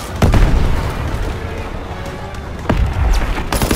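Grenade explosions in Call of Duty WW2, several heavy booming blasts with rumbling low end amid ongoing battle noise, loud and close, a strong burst early and more near the end.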